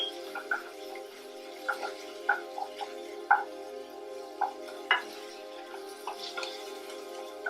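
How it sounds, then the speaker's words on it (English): Onions and garlic frying in a pan, a low, even sizzle with a steady hum behind it and regular light taps and scrapes of a spoon stirring, moderately close and fairly quiet. "As the onions are cooking, we will take the garlic and fry that as well."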